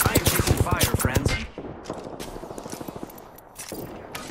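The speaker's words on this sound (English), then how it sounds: "I am taking fire, friends." Bursts of automatic gunfire in the battle royale game Apex Legends, loud and rapid at first and then thinning into scattered quieter shots with some voice underneath.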